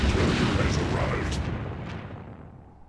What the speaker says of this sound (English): Alright, I've got two nukes firing